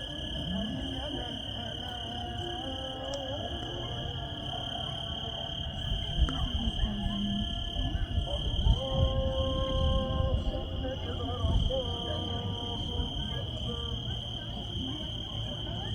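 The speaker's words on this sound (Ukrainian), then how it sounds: "Зараз заклик на молитву з мечеті." A mosque in Shkodër, Albania sends out its call to prayer: a distant, amplified, melodic voice rises and falls over a steady high insect-like drone and a low background rumble.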